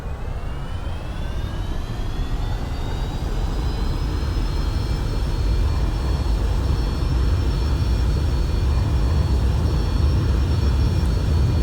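Jet engines of an airliner in the X-Plane 11 flight simulator spool up to maximum takeoff power at Innsbruck, a loud, continuous roar with a rising whine that levels into a steady high tone.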